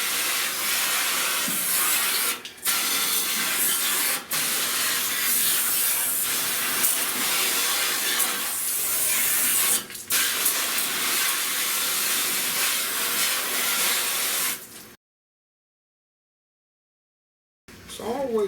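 A spray gun hisses steadily while coating an auto body door panel on a 1970 Buick Wildcat convertible, loud and close, with a few brief breaks before falling silent.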